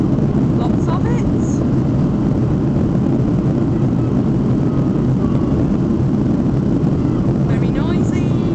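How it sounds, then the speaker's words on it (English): An airliner lands on the runway at Stansted Airport and applies heavy reverse thrust. A loud, continuous broadband engine roar holds steady throughout, with no voices over it. "Just about to go on the runway, and is it going to be nice and gentle? No. Reverse thrust."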